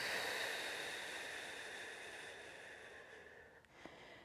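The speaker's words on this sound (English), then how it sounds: "take a nice deep breath in through the nose. And then breathe out, relax." A single deep breath is drawn in through the nose during a calming Pilates stretch, a soft airy hiss that slowly fades and is followed by a faint catch near the end.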